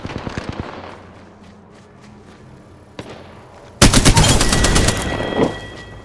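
Gunfire in the video game Apex Legends, in arena mode: a quick burst of shots, a lone sharp crack, then a loud dense stretch of rapid fire that fades out.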